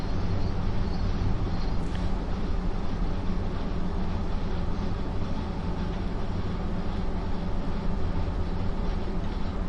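Train Sim World 2 train on the Arosa Linie braking with its vacuum brake on a slight uphill grade, a steady loud rumble and rolling rail noise throughout with a faint hiss, no voices.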